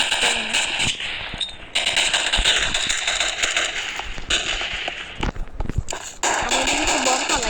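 Gunfire in the shooting game KUBOOM comes as bursts of rapid crackling shots and sharp bangs at close range, with short pauses between volleys over a busy game soundscape.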